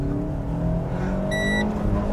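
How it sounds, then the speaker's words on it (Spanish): A Renault Sandero RS 2.0 accelerates with a low engine drone while its shift indicator sounds a single short, clear electronic beep lasting about a third of a second near the middle. "Ese pitico es porque tiene indicador de velocidades."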